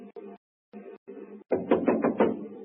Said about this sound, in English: we'll try rapping on the door